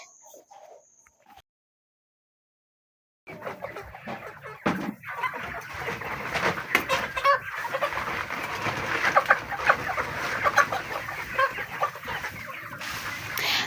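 Young farm-raised chickens, about ten weeks old, clucking and squabbling at the feeders as new feed arrives; a dense, continuous chatter of many birds close by after a brief quiet start.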